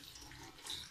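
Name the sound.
washing strawberries with water in a sieve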